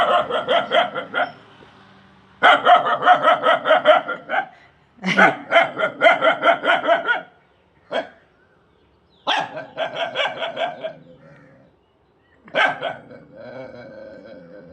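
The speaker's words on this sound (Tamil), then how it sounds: "நாய் அப்படி எதை தான் பார்த்து குலைக்குதுன்னு நீங்களே பாருங்க." A dog barks in repeated bursts of rapid barking at a lizard, loud and close, with short pauses between volleys.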